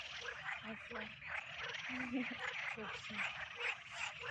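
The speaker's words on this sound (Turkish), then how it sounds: "gördüğünüz gibi kurbağa sesleri de geliyor." A dense outdoor chorus of frogs croaking continuously, many overlapping calls at moderate distance, with a steady night-time background hum under a yellow moon.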